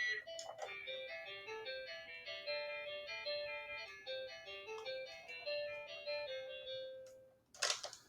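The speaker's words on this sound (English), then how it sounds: "The Fun and Learn Phonics Bus version plays in C major, and it just has guitar playing." LeapFrog Fun and Learn Phonics Bus toy playing Camptown Races in C major on a tinny electronic guitar voice, a bright plucked melody of quick repeated notes, ending with a short clunk.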